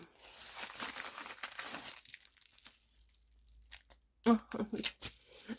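Plastic packaging being opened and crinkled, a brief burst of rustling and tearing late in the clip after a stretch of speech.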